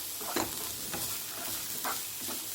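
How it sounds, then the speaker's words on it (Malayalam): Carrots are sautéed in a pan for masala khichdi with a soft, continuous sizzle broken by several spatula stirring scrapes at an uneven pace, close by and fairly quiet. "നന്നായിട്ട് ക്യാരറ്റും കൂടെ ഞാൻ നന്നായിട്ട് ഇതിനെ ഒന്ന് വഴറ്റിയെടുക്കാം"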